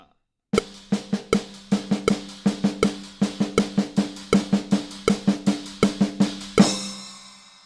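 Drum independence pattern on a kit, a 2/16 eighth-note figure that switches hands midstream: a steady run of crisp, evenly spaced hits played close and alone, ending on a louder crash-like accent.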